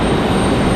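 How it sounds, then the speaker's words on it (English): A Boeing 777-200 airliner passing at an international airport, its engines making a loud, steady broadband roar close by. "Here comes our 777-200."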